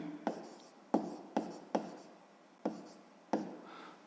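Numbers are written by hand, with a pen or pencil scratching and tapping on paper in six short, distinct strokes at uneven intervals, close and quiet with no talking.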